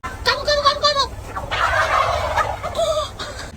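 A turkey gobbles loudly and close in a farm setting, with a rapid run of gobbles, a noisy pause, then another gobbling burst at the end.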